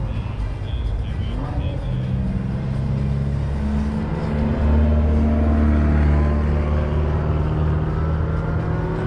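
A Ferrari 488 GTB sports car roars along a track, its engine note climbing steadily and holding loud and close through the run, with voices audible faintly underneath.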